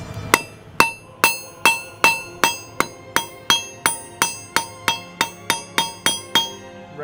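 Steady hammer blows on hot metal as a spoon is forged, the end being flattened; about sixteen sharp, ringing strikes at an even pace, close and loud with no talking.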